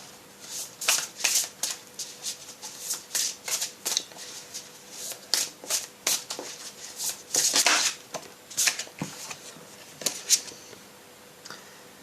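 A tarot deck is shuffled by hand in repeated quick bursts of riffling and flicking cards, close and crisp, with short pauses between bursts and no speech.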